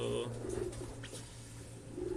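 Soft, low cooing of a pigeon or dove repeats at a moderate distance, faint against a murmuring background.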